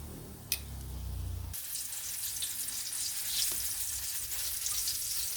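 Enoki mushrooms frying crispy in hot oil, a bright continuous sizzle that swells after a brief low rumble and a sharp clink at the start, steady and close throughout.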